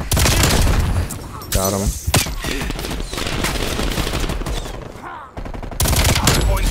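Rapid, loud bursts of Stoner LMG fire in a Call of Duty: Black Ops Cold War Hardpoint match, with sustained automatic fire, brief gaps and other battlefield shots, while a player speaks briefly over it.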